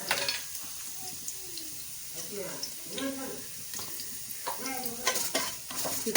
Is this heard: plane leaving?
no